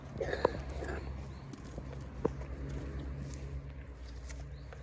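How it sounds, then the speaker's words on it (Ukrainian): Horse hooves clip-clop steadily on a hard surface, with a couple of sharper knocks, over a low outdoor rumble. "Ось такі коні"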